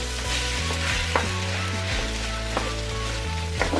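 A pan of paella ingredients and rice frying while being mixed gives a continuous sizzle with occasional stirring knocks. A steady low musical tone plays underneath throughout.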